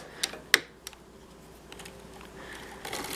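A vintage hand-cranked sock knitting machine carried across its needles, giving a few sharp mechanical clicks and clacks close by, then a softer steady whirr of the crank, no talk.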